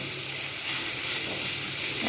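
Hot oil frying in a pan while cooking a Bengali cauliflower, potato and bori curry, a steady bright hiss and sizzle that stays even and close throughout, with no voices.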